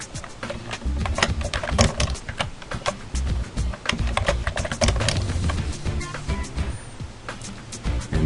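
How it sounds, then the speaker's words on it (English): Rapid, irregular clicks of a computer keyboard while a value is entered into a new row of an item cross-reference form, fairly close and steady throughout, with no talking. "type in your value"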